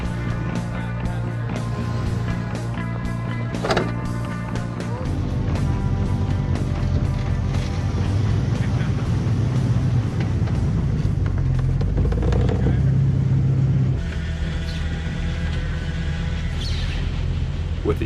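An off-road 4x4 crawls along a dirt trail at Hollister Hills. Its engine drones steadily and rumbles at low pitch, with the note shifting as the throttle changes. A faint voice is heard now and then.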